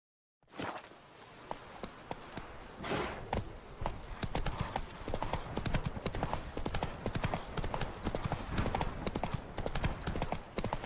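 A horse in The Witcher 3 sets off and gallops, hooves clip-clopping in a fast, steady rhythm close by, the pounding growing after a brief start, with no talk over it.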